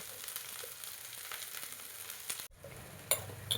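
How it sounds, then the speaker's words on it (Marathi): Spice masala with red chili powder sautéing in oil for spicy Kolhapuri misal: a continuous hissing fry that cuts off abruptly partway through, followed by a quieter sizzle with a few sharp clicks. "छान याला तेल सुटूपर्यंत परतून घ्यायचं."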